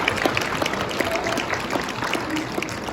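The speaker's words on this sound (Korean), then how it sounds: "이럴 때는 박수 한번 주시면" Audience applause at a Changwon mayoral presentation, a steady even wash of many hands clapping at moderate distance, continuous for a few seconds with no talk over it.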